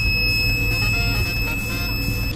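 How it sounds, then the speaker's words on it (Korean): The alarm of a reflow rework station repairing a graphics card sounds as a steady high-pitched electronic tone, continuous and fairly loud over a low machine hum. "이제 곧 알람이 울리면서 이제"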